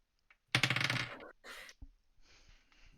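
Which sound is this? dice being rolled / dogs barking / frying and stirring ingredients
dice being rolled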